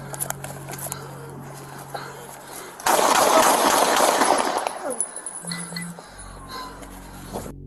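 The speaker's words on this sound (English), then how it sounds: "The suspect was shooting a .22 caliber rifle, modified with binary trigger." A .22 caliber rifle fitted with a binary trigger fires a dense, rapid volley lasting about two seconds in an outdoor confrontation, loud and close, set against background noise and a brief tonal hum.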